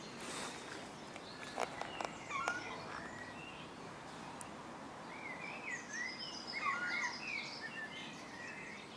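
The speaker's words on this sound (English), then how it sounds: "Herring gulls" Herring gulls call faintly at a distance in a garden, with scattered high cries over a steady outdoor background, and a few soft footsteps early on.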